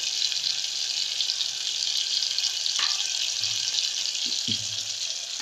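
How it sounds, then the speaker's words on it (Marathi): Tomatoes sauté in a pan for dal tadka with a steady, close sizzle throughout, broken by a couple of faint knocks of a spoon or pan near the end, with no talk. "टोमॅटो ही छान परतून घ्यायचा"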